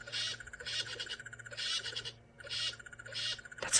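During a sunrise safari drive at Nkuhuma, a squirrel gives a loud, rhythmic call of about six raspy chirring bursts with short gaps between them, close by, over a low steady vehicle hum.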